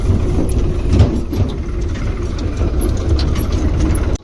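A farm tractor idles on a village road with a steady, loud, low diesel rumble that runs without a break until it cuts off abruptly at the end.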